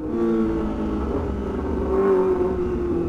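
A Kawasaki ZX25R motorcycle engine drones loudly and steadily, revving slightly up and back down, with no talking.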